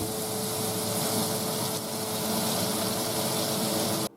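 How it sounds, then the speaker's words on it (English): A rinse tank for cleaning mill scale off metal art runs with a steady mechanical pump hum and whir, constant throughout before cutting off abruptly at the end. "So we'll take this and we'll fire up the old rinse tank here."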